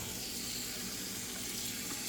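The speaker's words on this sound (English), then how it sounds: "So now we're gonna move this over to the faucet, okay? And we're gonna put it on cold water" Cold water from a kitchen faucet filling a ZeroWater 30-cup five-stage filter dispenser, a steady, close, even rushing hiss with no talking.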